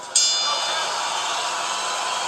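A boxing bell rings at the end of a round in a video game: one sharp clang that sustains as a loud, bright ringing tone, with crowd noise underneath.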